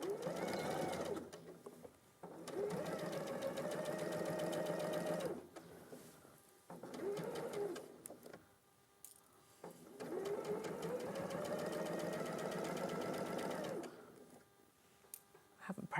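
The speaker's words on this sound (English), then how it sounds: "OK, so just pinned round this neckline, and we're going to stitch round it." A sewing machine stitching around a pinned dress neckline during a dressmaking demonstration runs in several steady bursts separated by short pauses, close and clear, with brief talk in some of the gaps.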